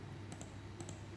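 A computer keyboard gives a few faint, quick clicks in two small pairs while data is entered into a spreadsheet, quiet and close, with no talk.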